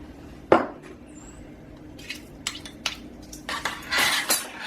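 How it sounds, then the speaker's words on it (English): A spoon scrapes and clinks against a metal pot while chia seeds go into sugar-free, pectin-free blueberry jam: one sharp clank, then a string of light clatters and a brief rattling stir, close and with no voices. "We are going to put 2 tablespoons"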